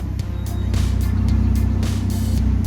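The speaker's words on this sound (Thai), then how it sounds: "เบรกแล้วกดปุ่มสตาร์ทครับผม นี่รถได้สตาร์ทแล้วนะครับผม" An Audi TT engine idles after a push-button start, a steady low rumble close by with a faint rhythmic pulse and light hiss, with no talk over it.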